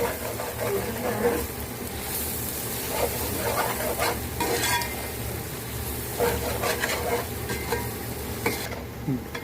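Chili powder is stirred into a pot of natu kodi pulao, which is country chicken pilaf. The scraping and stirring runs steadily through the clip over a faint background sizzle, with some voice-like sounds mixed in.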